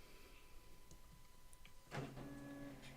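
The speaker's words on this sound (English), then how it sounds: "my printer's going off" A home printer whirring into motion unprompted, a quiet mechanical hum and clunk of gears with a few tonal motor whines, faint and alone in a quiet room.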